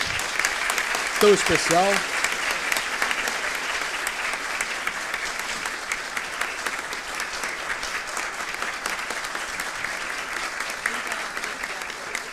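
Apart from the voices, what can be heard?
audience applause at a legal conference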